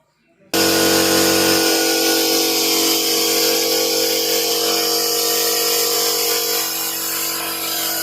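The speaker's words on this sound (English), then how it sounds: "As soon as I release this push button, the air pressure get released and the piston will be sucked inside again." Steady loud hiss and hum of a pneumatic trainer rig driving a double acting cylinder piston by push button, starting abruptly after a short silence and running continuously to the end.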